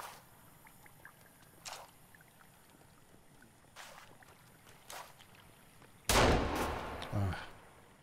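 A shotgun in the survival game Sons of the Forest fires one loud, close blast after several quiet clicks and handling sounds, and a short, heavy echo follows.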